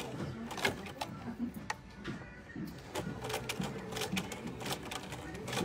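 A sewing machine stitches a backstitch along a lining edge, three stitches forward and three back, in short mechanical bursts with clicks, with a voice speaking softly over it.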